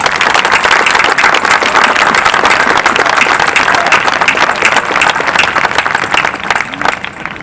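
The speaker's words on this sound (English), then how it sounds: "So please take a moment just to give a round of applause and appreciation for his service" Loud, sustained applause fills a 2021 Catawba Ridge high school graduation ceremony, many hands clapping densely and evenly for the full stretch.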